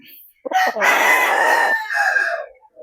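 A backyard gamefowl rooster crows once, loud and close, with a long sustained call followed by a trailing tail, alone with no other sound.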